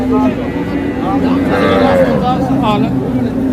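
A Friesian cross heifer calf moos repeatedly at a busy cattle market in Hazratpur, several short harmonic calls close by over steady crowd noise and distant voices.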